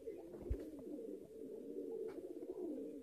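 A high-flyer pigeon coos softly and repeatedly in a low rolling murmur, close but quiet, with a faint thump early on and no talking.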